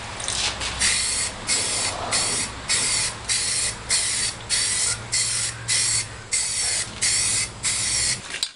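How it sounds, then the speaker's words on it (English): Aerosol primer is sprayed onto a custom-fabricated Jeep front bumper in steady hissing bursts, about a dozen even pulses of roughly half a second each, close and fairly loud over a low background hum. "let me throw some primer on it and throw it on the Jeep"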